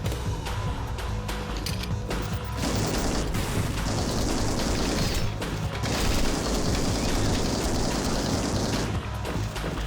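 Rapid, sustained Gatling cannon fire from the Rengoku: The Tower of Purgatory video game, a loud, dense roar of shots with brief breaks around three and five seconds and another near the end, mixed with mechanical clatter and no talking.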